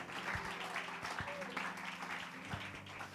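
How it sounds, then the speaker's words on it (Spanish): A church congregation claps during a Spanish-language Sunday morning service, a soft, fairly distant patter of many hands mixed with faint voices and a few low thumps. "usted puede aplaudir al Señor esta mañana"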